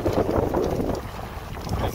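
Outdoor wind buffets the microphone in a steady low roar for two seconds, easing slightly midway, with no speech over it.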